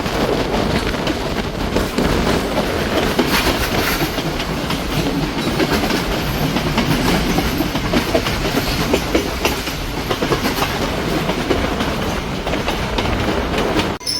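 The Udaya Devi Express, a Sri Lankan express train near Habarana, rolls along the rails with a loud, unbroken rumble. A rapid clickety-clack of wheels runs through it, heard close up from on board with no talk.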